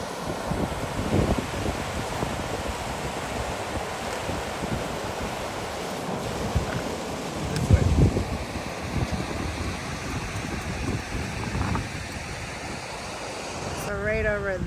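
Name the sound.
rushing water of Rapids River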